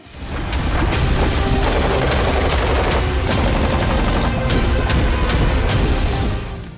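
FN Evolys machine gun firing rapid full-auto bursts, loud and close, with sharp cracking reports in quick succession over a heavy booming rumble that sustains throughout.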